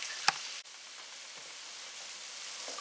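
Spaghetti bolognese sauce in a pan gives a steady hiss and sizzle with a sharp clink of a utensil near the start as it is stirred.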